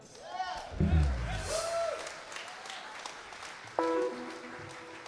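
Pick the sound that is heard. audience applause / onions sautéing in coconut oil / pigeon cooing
audience applause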